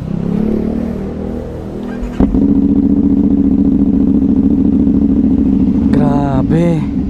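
A 450SR motorcycle with an aftermarket Austin Racing exhaust idles loudly with a deep throaty note, then picks up after a brief break; people talk over it near the end.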